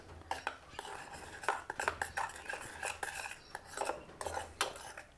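A spoon stirring homemade dish-washing liquid in a metal vessel makes a busy run of clinking, scraping strokes in uneven rhythm, close and fairly quiet, with no talking.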